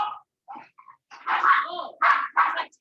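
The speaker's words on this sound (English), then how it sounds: "there's like 10 dogs walking through my house" Several dogs moving through a house give a mix of yips, whimpers and short barks, close and fairly loud, in irregular bursts with brief gaps between them.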